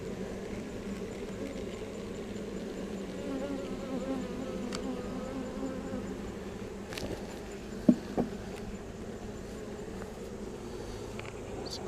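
Honey bees from an open hive drone in a steady, dense buzz during an inspection of frames holding capped cells, nectar and bee bread, with a couple of brief knocks near the end.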